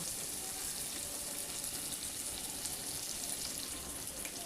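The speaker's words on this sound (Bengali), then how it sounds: "এবার আমি সামান্য জল অ্যাড করছি" Water poured into a pan of raw green tomato curry with oil and chilli, a steady broadband hiss and sizzle running evenly through the whole stretch at moderate level, with no voices.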